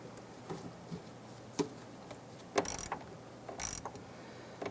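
A hose clamp is tightened on fuel tank hoses of a 1999-2004 Jeep Grand Cherokee, giving sparse mechanical clicks and two short rattling ratchet-like bursts close by against a quiet background.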